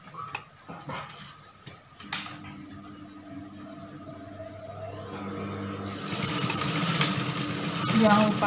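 Sewing machine stitching a lace and plain-fabric dress, a brief clatter then a steady motor whir building louder toward the end, close by, with someone talking over it.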